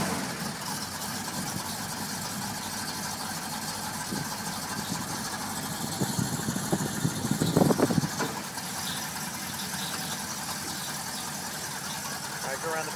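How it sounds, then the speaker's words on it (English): A 1965 Ford Mustang with electronic ignition idles after a cold start, its low engine rumble steady under background noise, briefly rising a little louder midway, with people talking nearby. "Cold start."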